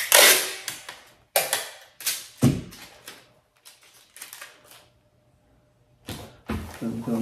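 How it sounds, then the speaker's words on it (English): Packing tape rips off the roll in several loud, sharp pulls with short crackling bursts and pauses between them as it is pressed onto a bag, close up. "I get my packing tape."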